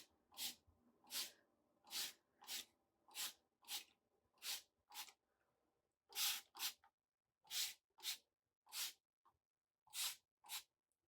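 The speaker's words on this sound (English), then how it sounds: "So I'm just gonna spray it." Water is spritzed from a spray bottle onto the frizzy ends of curly hair, a series of short, sharp hissing bursts, close and quiet, some in quick pairs, separated by brief pauses.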